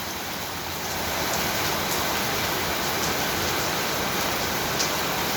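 Heavy rain pouring down steadily with water running off a roof, a dense, continuous hiss that stays loud and even throughout, with no voices.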